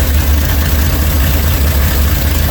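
A 1986 Dodge Ramcharger engine runs with no exhaust fitted, a loud, steady, rough idle with heavy low rumble and broad noise, close by.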